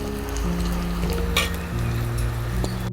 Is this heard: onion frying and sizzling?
yes